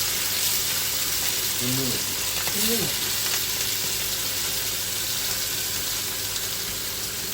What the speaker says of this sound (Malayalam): അപ്പൊ ഇത് നന്നായിട്ട് വറുത്തെടുക്കാം.